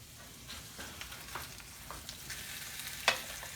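Salmon fries in a hot pan with a steady low sizzle and crackle, small pops throughout and one sharp spatter near the end, fairly quiet with no voices.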